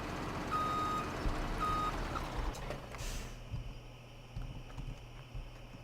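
Volvo truck reversing in the Farming Simulator 17 video game, giving two short evenly spaced backup beeps over a steady low engine rumble, followed by an air-brake hiss.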